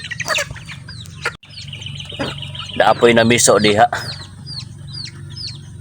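Chickens cluck and squawk nearby amid a steady low hum, with a person speaking briefly over them.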